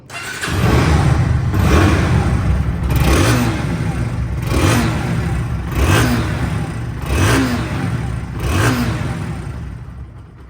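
A Bajaj Pulsar NS 160cc motorcycle engine revs repeatedly, rising and falling in about six regular bursts, loud and close, with a steady idle rumble between them.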